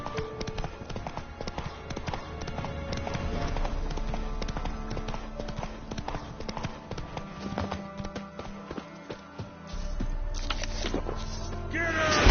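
A horse gallops in the video game The Witcher 3, a steady rhythmic run of hoofbeats heard close and loud across the whole stretch, with mixed game noise and a brief voice.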